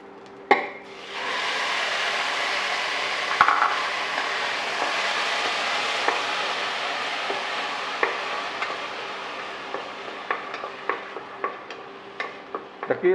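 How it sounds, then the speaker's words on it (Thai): Tomatoes sizzle and crackle steadily as they are stir-fried in a pan for a vegetarian okra dish, a broad continuous frying hiss with sharp clicks of a utensil against the pan growing more frequent toward the end, no talking. "ตอนนี้เราก็เจียวมะเขือเทศ ให้แตกมัน"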